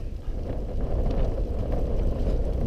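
Wind gusts steadily across a moorland wild camp near Hedgehope in July, a continuous low rumbling buffet close on the microphone with no break, rising slightly after the first moment and holding loud throughout.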